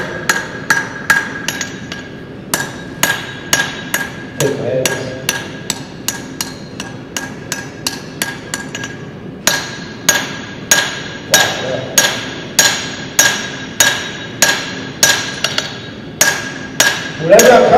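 A blacksmith's hammer strikes hot metal on an anvil in steady, rapid ringing blows, loud and close, with brief pauses between runs of strikes.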